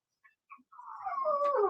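A dog lets out a few short whimpering yips that rise into a sustained, wavering howl, close and unaccompanied by speech.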